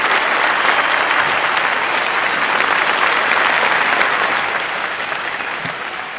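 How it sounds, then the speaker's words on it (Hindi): A large crowd applauds loudly and continuously, a dense wash of clapping that fades slightly toward the end. "एक बार जोरदार तालियों से उनका स्वागत करें"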